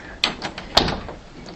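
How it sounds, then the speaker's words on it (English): A bedroom door being closed in a house, giving two distinct knocks or latch thumps about half a second apart, close and fairly loud, with no talking. "So I'm closing her door"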